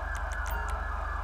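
Ambulance siren in the video game GTA V with the LSPDFR mod, a steady wailing electronic siren with rapid repeating pulses, fairly loud and continuous through the short moment, with no talking.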